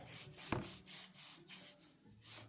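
Fine clay is gently rubbed by hand over a damp dorodango mud ball, giving soft, repeated close-up rubbing strokes with one brief sharper tap partway through.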